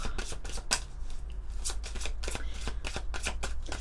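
Oracle cards are shuffled by hand during a love-themed card reading, a dense, close riffling and slapping of card edges that runs continuously with quick rhythmic flicks, loud and without speech.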